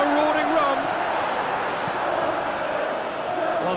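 A stadium crowd in the football video game eFootball 2021 roars in a steady, dense wash of cheering that holds throughout, with a commentator's voice running over it.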